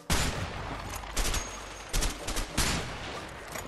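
Gunfire from the video game A Way Out comes as a string of loud, sharp bursts of shots in quick clusters, with short pauses between the volleys and nobody talking over them.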